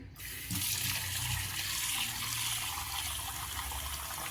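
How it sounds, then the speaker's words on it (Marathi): Water runs steadily from a tap into a vessel as lentils are rinsed, a continuous close splashing hiss with no talk. "एका पाण्याने आपण विसळून घेऊ आणखी"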